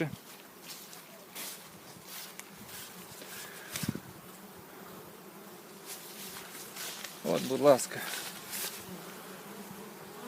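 Honey bees crawling on hot metal buzz in a steady, close drone throughout, with a person speaking briefly and some handling noise near the end.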